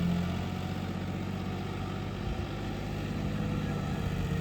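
A new John Deere 5210 4x4 tractor engine runs with a steady, low diesel drone, continuous and fairly close, with no voices.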